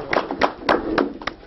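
An audience claps for a mayor at a public assembly meeting in Görneç: a sparse, uneven round of separate hand claps, fairly close, with no voices.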